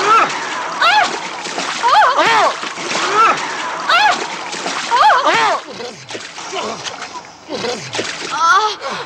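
In an animated scene, someone falls into cold water with a loud splash, followed by sloshing and splattering. Voices talk over the water throughout.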